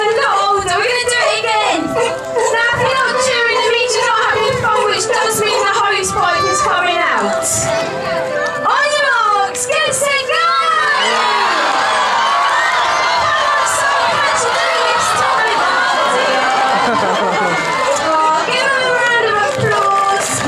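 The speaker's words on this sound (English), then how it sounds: "Who was cheering for Salt? You need to be much louder, come on." Zoo audience at Whipsnade Zoo cheering and shouting for a performer named Salt, a loud, dense crowd roar with excited children's voices that swells near the middle and holds steady to the end.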